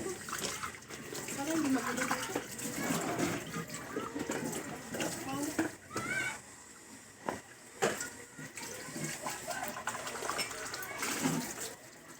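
Tap water runs and splashes while plates are washed by hand in a sink, a fluctuating gush with clatters and pauses, and people talk over it throughout.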